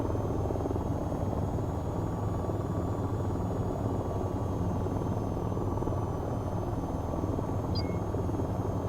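Steady, loud helicopter rotor and engine drone from the flight game VTOL VR, a continuous close buzzing thrum with no pauses.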